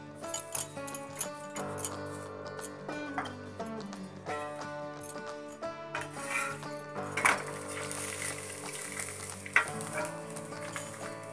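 A paratha of radish filling fries on a pan with refined oil, a crackling sizzle heard close and uneven, with light tapping and scraping bursts but no talk.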